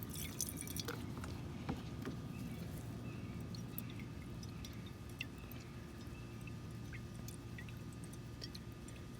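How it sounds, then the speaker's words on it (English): Distilled water rinsing refining residue from a gold-filled watch band, heard as steady trickling and dripping liquid with scattered small drips over a constant low hum, fairly faint and with no talking. "I'm gonna rinse this off with some distilled water."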